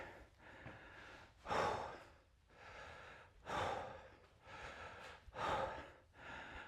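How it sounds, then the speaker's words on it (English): Heavy, labored breathing after a home workout session of power moves and sit-ups, with deep gasping inhales and exhales repeating roughly every two seconds, close and fairly loud with no talking. "Catch a few more breaths here."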